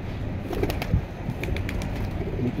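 Pigeons being released by hand at an outdoor pigeon sale, with soft scattered coos and quick bursts of wing flapping, fairly close and moderately quiet amid light background noise.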